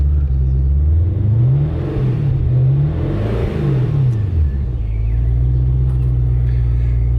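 Maserati 3200 GT engine while driving, revving up and down through several rising and falling sweeps before settling into a steady, loud, close drone.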